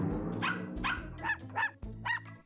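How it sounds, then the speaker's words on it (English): Cartoon dogs bark in a quick series of about five sharp, yappy barks, close and loud, with brief pauses between them and no talking. "Hush, dogs! We've got to think!"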